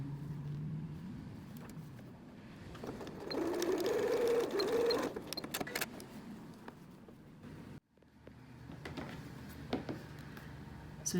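A sewing machine runs along the sides of a tea towel apron, a quiet close mechanical hum that grows louder for a few seconds in the middle, then stops briefly and restarts more softly.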